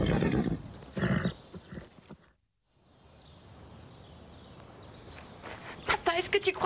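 A horse named Cobalt whinnies and its hooves clip-clop against a mix of close voices and a short silent gap, with birds faintly chirping in the background and sharp hoof strikes returning at the end.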